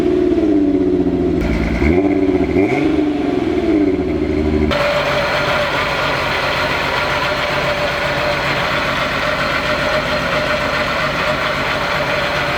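A car engine fitted with a new lightweight pulley runs close up and loud, at first revving and falling in short bursts, then settling into a steady, rough idle drone with a constant rumble.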